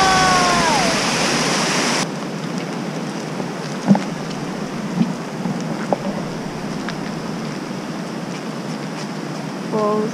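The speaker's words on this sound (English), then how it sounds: "We are checking out a waterfall." A waterfall in Pemberton, Western Australia rushes as a steady broadband roar, with a few faint knocks and brief tones over the constant water noise.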